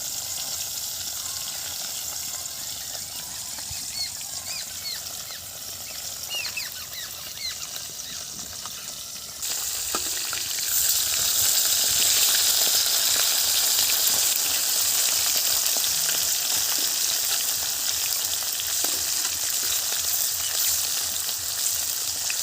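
Koi fish fry in hot oil with a continuous close sizzle that grows louder partway through, with faint kitchen clinks in the background and no talking.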